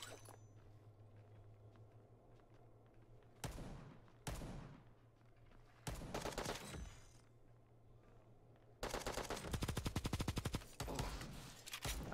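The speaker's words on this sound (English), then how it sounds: "I really got sniped by that," Gunfire in the mobile shooter Bullet Echo, a few separate sharp shots spaced apart over a low hum, then a dense, rapid burst of automatic fire near the end.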